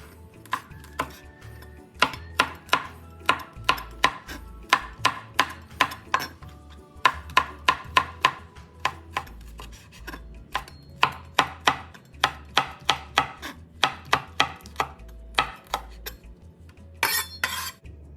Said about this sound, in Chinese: 红辣椒1条，一样切成丝。